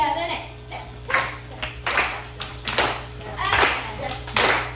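Rhythmic claps and steps from a Tina Turner dance class aboard the Carnival Jubilee on a sea day, five or six sharp hits spaced about a second apart, with voices and children chatting over a steady background hum.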